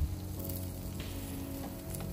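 Carne asada sizzles steadily on a hot grill, a continuous crackling fry held at an even, moderate level with no talking.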